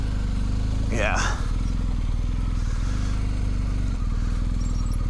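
A BMW R1250 GSA adventure motorcycle idles and rumbles on a trail in a steady low drone, while a rider talks over it and a short rising rev or scrape cuts in near the middle.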